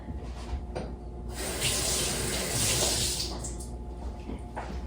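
Steady rush of water running from a kitchen faucet to wet hands while making Italian macaroons, continuous and fairly close, swelling slightly in the middle and ending with a few light splashes.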